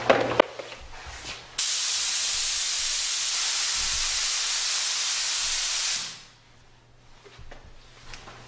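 A steady, loud hiss from a SATA spray gun painting a panel runs for several seconds without pause, then cuts off, leaving quiet room noise.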